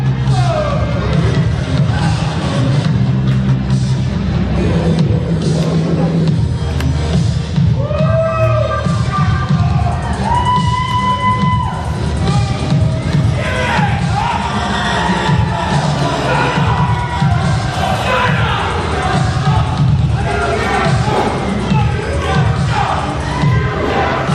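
At a wrestling pre-show, an arena crowd reacts to a tag team in a continuous din of shouting, whoops and babble, with a few sharp calls and thuds rising over the noisy, close crowd.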